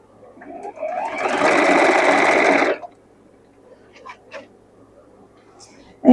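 A sewing machine runs a steady stitching burst for about two seconds while hemming a turned-down seam on a blue halter dress, then stops, leaving faint handling clicks and a soft voice murmur close by.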